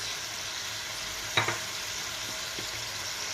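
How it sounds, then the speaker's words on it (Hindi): Cumin, red chilli and turmeric frying in hot oil for a spiced fish curry, a steady low sizzle throughout with a couple of sharp stirring clatters near the middle. "अब हम मसाले को भून लेते हैं"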